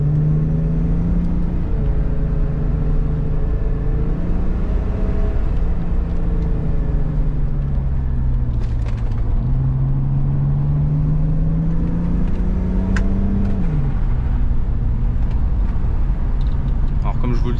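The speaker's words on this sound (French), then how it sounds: "Allez, c'est parti pour un petit POV du plaisir avec ce V12." A BMW 850i E31 with a V12 engine hums steadily from inside the cabin while driving, its tone rising and falling smoothly through gear changes under a continuous road rumble.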